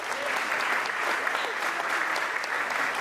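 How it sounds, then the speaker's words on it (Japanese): Steady audience applause closing a festival ohayashi (traditional Japanese festival music) performance at a Tachikawa event, a dense even patter of many hands that holds throughout without a break. "大きな拍手をお願いします。"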